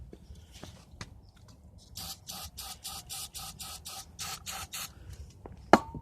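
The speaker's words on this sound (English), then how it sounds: "we'll try with some starting fluid" Starting fluid sprayed into a 1989 Briggs & Stratton 5hp gear-reduction engine that sat unused for years: a run of about ten short hissing aerosol bursts in a steady rhythm, close and fairly loud, then one sharp knock near the end.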